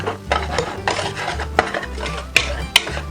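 A muscovado sugar mixture for piyaya being stirred in a bowl, with repeated scraping strokes and a few sharp clinks of utensil on the container, close by and without talk.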